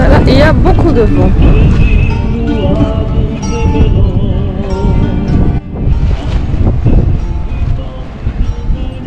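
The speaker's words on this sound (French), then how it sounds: "Beaucoup de vent." Strong wind roars and buffets constantly against the microphone while a tent dries outdoors in Croatia, loud and close, with surf-like rushing in the background.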